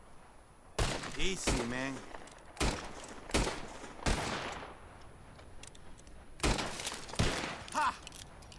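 Several gunshots in Red Dead Redemption 2, fired at bottles, crack out as loud separate bursts spread across the scene, with someone talking between the shots.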